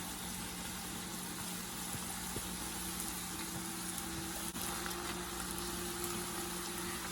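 Chopped onion frying in a pan for a ground turkey burrito gives off a steady, faint, even sizzle that runs unbroken throughout, with no talking.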